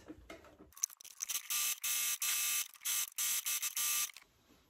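Sewing machine running a zigzag stitch along a trimmed shirt, a loud whirring motor in several short bursts separated by brief stops, close and alone.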